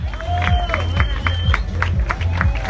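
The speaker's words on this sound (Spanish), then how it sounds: "Fuerte el aplauso a nuestra embajadora" A large crowd at a seaside festival coronation applauds and cheers for the festival ambassador, a loud continuous roar of clapping and voices with a steady low beat underneath.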